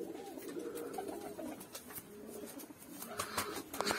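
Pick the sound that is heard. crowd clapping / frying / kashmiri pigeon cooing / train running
kashmiri pigeon cooing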